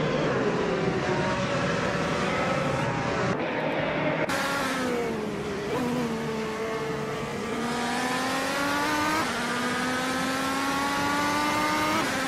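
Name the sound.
race car engines in a racing video game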